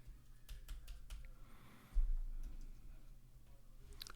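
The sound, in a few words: typing on a computer keyboard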